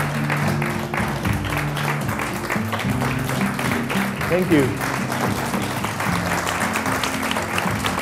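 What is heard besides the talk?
audience applause at a magic show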